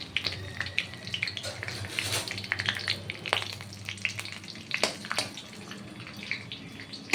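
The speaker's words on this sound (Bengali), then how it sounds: "চারটে তেজপাতা দিয়ে দিলাম এটা ভাজা হবে" Bay leaves and panch phoron with cumin crackle and sizzle in hot oil for a cabbage ghonto, a steady close frying hiss broken by sharp spattering pops and stirring clatter, with no talk.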